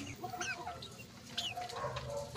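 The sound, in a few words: chickens clucking in a backyard pen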